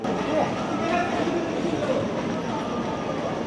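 The Bandhan Express between Kolkata and Khulna at Ambika Kalna station, a steady low rumble of the train rolling along the rails, with talking close by.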